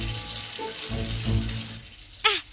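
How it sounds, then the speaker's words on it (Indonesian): Tap water running from a faucet, a steady broadband rush that holds for a couple of seconds and then thins, ending with a brief sharp splash or squeak. "sepertinya air keran tadi mengalir lagi"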